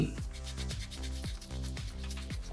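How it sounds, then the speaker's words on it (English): Coarse sandpaper rubs back and forth over a small soapstone shark carving, a close, rhythmic scratching in about five even strokes with no voices. "Because sandpaper 1 is the coarsest, it does the most amount of shaping, most effectively for you"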